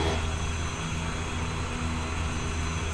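Engine 2 of a Shergood S-64 helicopter spins up after the starter switch is pressed, a steady loud turbine whine and roar with constant broadband noise and no break.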